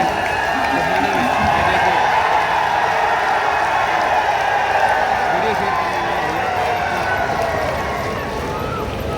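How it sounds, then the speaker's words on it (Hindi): A large outdoor crowd at a political rally gives loud, sustained applause, a dense, even roar of clapping that holds steady for the full stretch and eases slightly near the end. "जोरदार तालियां हमारे भाई देवेंद्र बबली जी के लिए।"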